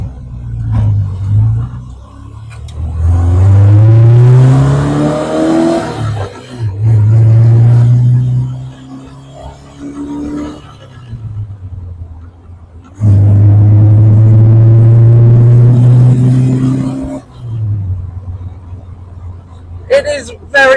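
A 1986 Caterham Super 7 sports car driving on the road, its engine droning loud and close, rising in pitch through two long revving pulls with quieter stretches between.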